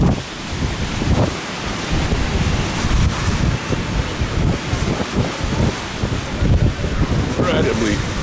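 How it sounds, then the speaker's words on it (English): Rough sea off Mallorca with big waves surging and crashing under strong gusting wind that buffets the microphone, a continuous loud roar throughout. "Really big waves."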